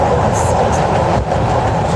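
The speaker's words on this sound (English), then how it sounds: "So this is a bulk commodity train." Loud, steady rumble and rattle of a bulk commodity freight train loaded with grain rolling past at roughly 65 to 70 mph, wheels clacking continuously close by with no pause.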